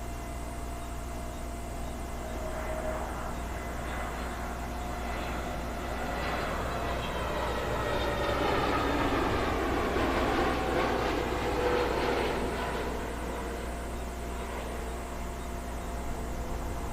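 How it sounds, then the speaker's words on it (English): An Airbus A320neo airliner on landing approach to Heathrow runway 09 left, a distant broad jet roar that swells gradually toward the middle and then eases, steady and without voices. "This an A320 Neo inbound from Larnaca."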